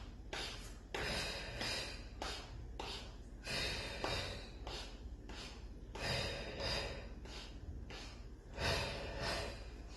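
Breathing during a Pilates mat workout comes in a steady series of audible breaths, with sharp inhales and exhales repeating close to the microphone in a regular rhythm and no talk.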